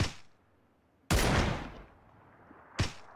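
Gunfire from a video game cracks out in three separated bursts, each a loud sharp blast trailing off into a decaying echo, with quiet gaps between and no talking.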